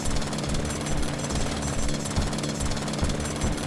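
Hand drill grinding into rock in a space-building video game, a loud continuous rattling hammer with steady pulsing impacts, heard alone with no talk.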